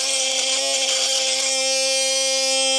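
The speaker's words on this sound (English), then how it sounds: "This is a perfect use for an oscillating saw." A DeWalt 20V oscillating multi-tool buzzes continuously at a steady high pitch while cutting, close and alone, with a brief change in tone partway through.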